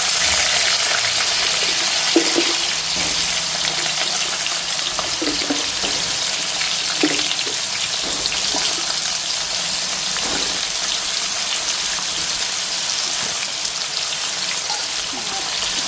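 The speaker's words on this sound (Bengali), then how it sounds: "তেল গরম হয়ে গেছে, পটলটা বসাই দিই।" Pointed gourd is frying in hot oil, giving a steady, loud sizzle with a constant crackle and occasional pops throughout.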